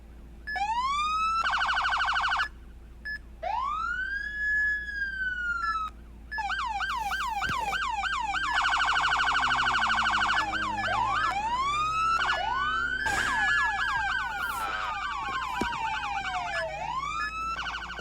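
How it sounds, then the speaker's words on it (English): Police car sirens from the Roblox game ER:LC, cycling through several electronic patterns: rising-falling wails, rapid yelps and sharp chirps, loud and continuous with brief gaps, no talking. "Sirens."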